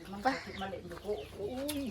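Chickens cluck and coo softly close by around a rural kitchen, with a few short calls coming through as people talk over them.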